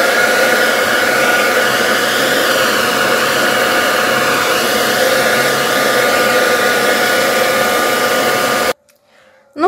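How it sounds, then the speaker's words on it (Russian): A hair dryer blows with a loud, steady whooshing roar for several seconds, then cuts off abruptly near the end. "Для того, чтобы быстрее высохло, можно воспользоваться феном."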